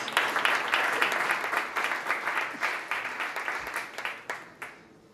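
Audience applause at a startup competition stage event, welcoming a CEO on stage: dense clapping from a large crowd, loud at first and gradually thinning and fading over about five seconds, with no talking.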